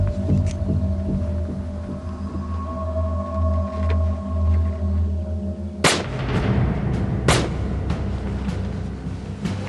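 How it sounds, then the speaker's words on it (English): Gunshots at a youth camp: a dull low rumble and hum give way to two sharp, loud cracks a few seconds apart, with fainter reports scattered between them. "I hear gunshots."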